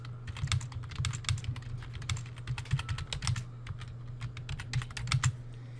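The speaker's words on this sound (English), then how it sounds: "I can type them in here." Computer keyboard typing while entering grading comments, irregular bursts of close, crisp key clicks with brief pauses, over a low steady hum and no talking.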